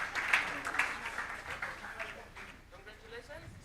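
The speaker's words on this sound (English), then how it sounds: "Please let's clap for them." Applause from the crowd at a Nigerian youth summit, honoring local community groups and foundations, clapping fairly steadily at moderate volume, with voices talking over it before it fades out.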